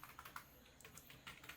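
Rapid, faint clicking of keys on a computer keyboard as a comment is typed, a quick irregular patter heard alone.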